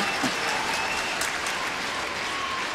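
Spectators at a badminton world championship semi-final clap and cheer, a dense, steady wash of applause from a large indoor crowd with faint whistles, heard alone and sustained throughout.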